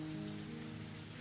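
Heavy rain pouring steadily in the Higurashi visual novel game, a dense continuous hiss with no other sounds or voices.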